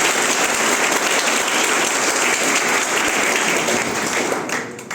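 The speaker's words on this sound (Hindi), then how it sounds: "उनके लिए जोरदार तालियों से" Loud, dense crowd applause welcomes a Padma Shri award recipient at an Indian gathering, sustained evenly for several seconds before beginning to taper off at the very end.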